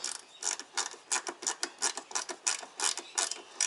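Rapid, crisp ratcheting clicks from a screwdriver turning screws while working on a Ford BA Falcon power steering pump, with close, evenly spaced bursts of mechanical ticking and no voices.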